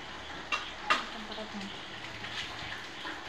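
Onions, garlic and chicken fry for chopsuey, a soft sizzle broken by a few clear clinks and scrapes of a utensil stirring in the pan, all fairly quiet.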